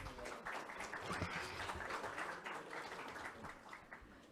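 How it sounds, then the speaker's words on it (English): An audience at a conference session breaks into applause, dense steady clapping that is fairly faint and fills the room for several seconds. "Let's give her a warm round of applause"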